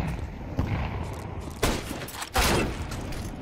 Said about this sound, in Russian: Я просто в чела стреляю